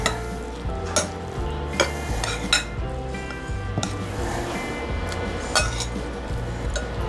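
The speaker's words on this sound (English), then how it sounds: "And all this is gonna get mixed up, set aside for a few minutes." A spoon stirs breakfast potato filling with a squirt of sour cream in a bowl, giving soft scraping strokes and repeated light clinks against the bowl over steady background music.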